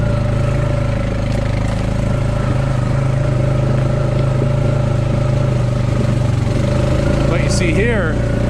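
Dirt bike engine droning steadily while climbing a trail uphill, loud and continuous with a constant low rumble, a person talking over it.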